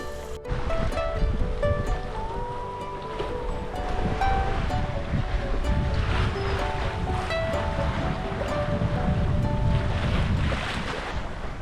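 A sailboat moves at about 6 to 7 knots across Fiji's Koro Sea, with a steady rush of water and waves along the hull and wind buffeting the microphone throughout.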